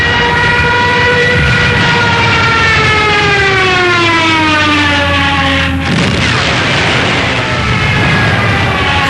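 A Junkers Ju 87 Stuka dive bomber's Jericho trumpet siren wails over Poland in a World War II air raid, a loud, sustained, harmonically rich howl whose pitch slowly shifts, broken partway through by a sudden blast.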